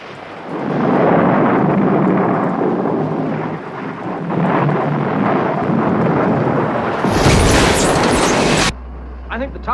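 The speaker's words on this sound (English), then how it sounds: "If the storm doesn't abate, we are in real trouble." Thunderstorm in a Thunderbirds puppet series episode: steady heavy rain and rolling thunder fill most of the stretch, with a sharp crackling burst near the end before cutting to a low hum.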